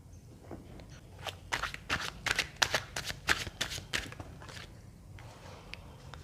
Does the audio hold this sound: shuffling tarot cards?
yes